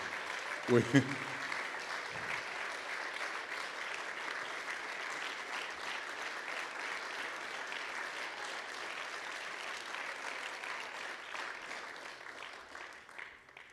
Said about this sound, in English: now you can applaud me really, really hard